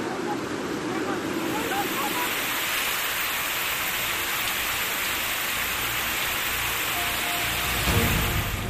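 Torrential rain over flooded streets in Jabalpur, heard as a dense, steady wash of hiss and roar with no breaks, moderately loud and continuous throughout.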